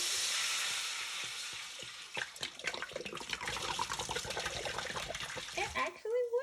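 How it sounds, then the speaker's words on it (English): Red wine poured into a hot pan for a one-pot lamb shank meal, hissing and bubbling loudly as a utensil scrapes the browned bits off the bottom, with a few scraping strokes standing out. "deglazing is just putting the liquid in there and you're scraping up all these brown bits"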